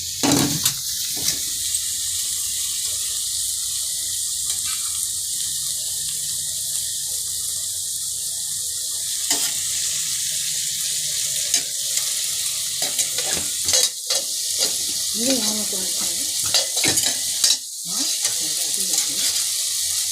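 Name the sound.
chicken masala frying and being stirred in oil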